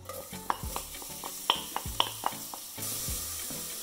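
Leeks sizzling in olive oil in a pan for shrimp bisque make a quiet, close hiss. A few sharp clinks and stirring knocks of a utensil against the pan come through early, and the sizzle continues steadily with no talking.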